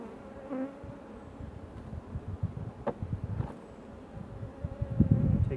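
Honey bees buzz while being shaken into an apidea mini-nucleus with a virgin queen: a continuous, close, fairly soft drone with a few louder passes and rustles.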